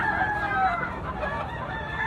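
Brown hennie bullstag rooster crowing in one long, loud call that fills the whole clip, with harmonic bands wavering throughout and no talk over it.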